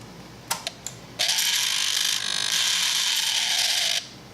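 Sub throttle servo on a Kawasaki Z1000 throttle body sweeping open, a few sharp clicks followed by a steady high mechanical whir lasting a few seconds, close and alone.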